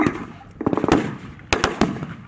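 Blank gunfire at a World War 2 battle reenactment: a rapid burst of sharp, loud shots followed by a second cluster of three cracks, close by and outdoors.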